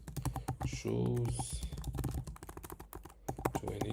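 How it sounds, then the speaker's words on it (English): Rapid clicking from a computer keyboard being typed on, heard close and crisp under a man's ongoing speech. "Now just fill it using your keyboard."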